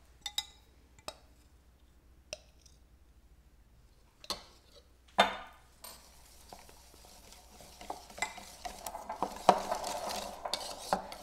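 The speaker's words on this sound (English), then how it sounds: "You want to whisk it all together and get a little aggressive" Chocolate being whisked into warm vanilla custard in a bowl for chocolate mousse: a few isolated clinks at first, then a continuous fast scraping and tapping of the whisk against the bowl, close and moderately loud.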